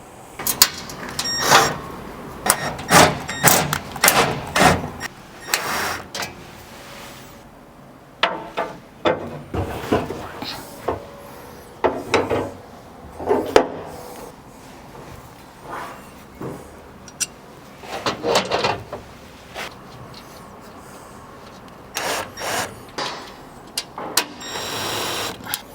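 Bolts being tightened through the top plates and frame of Buzz Overland cargo racks during installation: irregular bursts of metallic ratcheting and clanking, close and fairly loud, repeating with short pauses throughout.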